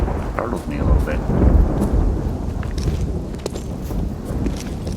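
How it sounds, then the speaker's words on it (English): Rumbling thunder and steady rain in the hunting video game The Hunter: Call of the Wild, a low rolling roar over a continuous wash of rainfall and wind, fairly loud and without speech. "A little bit of thunder to go with our rain."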